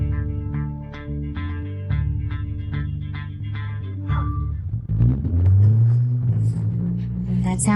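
A souped-up truck engine revs hard, first pulsing rhythmically at idle, then surging into a loud, rising roar of acceleration up close.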